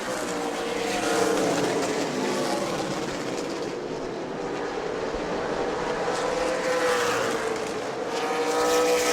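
Super Late Model race cars at New Smyrna Speedway in Florida roar around the track in a loud, continuous pack, engines swelling and fading as they pass, with a commentator talking over the noise.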